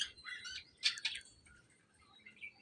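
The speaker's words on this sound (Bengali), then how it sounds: "আর আমার পাখি কেন এরকম করে ডাকতেছে আমি বুঝতেছি না" A pet bird gives bright, shrill chirps and calls at close range, in a burst at the start and a stronger cluster about a second later, with faint calls continuing quietly afterward.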